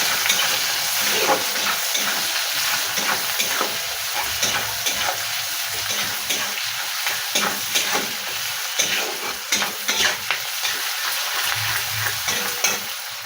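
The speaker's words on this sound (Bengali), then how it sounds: "পেঁয়াজটাকে আমি ভালো করে লাল করে ভেজে নেব।" Sliced onions frying in hot oil with dried red chilli and bay leaf, a continuous crackling sizzle with irregular stirring scrapes throughout, close and unaccompanied by speech.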